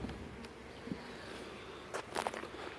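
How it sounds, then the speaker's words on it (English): Soft, steady hum of honey bees buzzing in an open hive, faint and close, with a few light knocks and rustles from handling frames. "there's a lot of bees in here"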